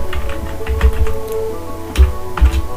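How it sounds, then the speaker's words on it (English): Keys tapped on a computer keyboard in a quiet room, a handful of irregular clicks with a couple of louder strokes near the end, close and clear over a low steady hum. "Let's type body."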